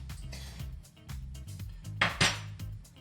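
Tarta de Santiago batter is stirred in a bowl, making irregular clinks and scrapes of a utensil against the bowl with a couple of sharper knocks, fairly quiet and close.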